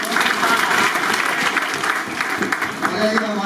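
A room full of students applauds at a coaching institute result ceremony, steady dense clapping that continues throughout, with someone speaking over it at moments.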